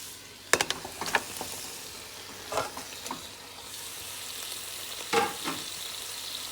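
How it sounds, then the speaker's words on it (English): Lamb pieces frying with tomato paste in a stew pot, a soft steady sizzle under occasional close scrapes and knocks of a utensil stirring the meat. "I'm gonna add back the lamb now."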